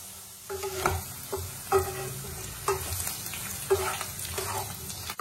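Oil sizzles softly as bitter gourd, potato and other vegetables fry, under repeated clinks and scrapes of a utensil stirring the pan, roughly once a second.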